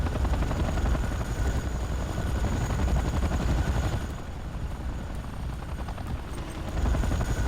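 A Starlifter transport aircraft moves out in the Rise of the Reds real-time strategy game, producing a steady, loud, droning engine and rotor-like hum that persists throughout with no talking.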